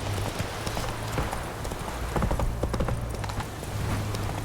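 Roach the horse trotting in The Witcher 3, hooves clip-clopping in a steady rhythm, close and clear over a low ambient drone.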